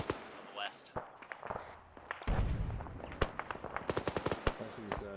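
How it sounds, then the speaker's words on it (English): Infantry gunfire in the Arma military simulation game: sharp broadband shots and bursts, with several rapid volleys toward the end, over continuous battlefield rumble while people talk over radio. "Infantry fire on the west."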